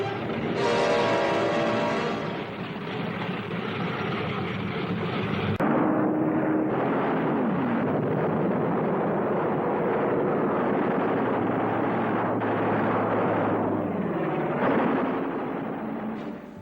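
WWII fighter aircraft engines, British Spitfires and German fighters, drone and roar in a dense, steady wash of engine noise with a shifting pitch as the planes pass, loud and sustained throughout.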